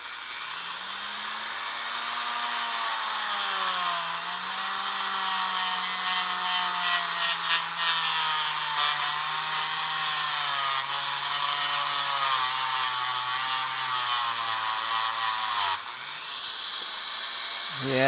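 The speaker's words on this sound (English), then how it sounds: "We could also just try the Dremel." A Dremel rotary tool cuts into 30-pin SIMM sockets, giving a steady high-pitched whine that drifts slightly in pitch as it grinds, with people speaking faintly over it.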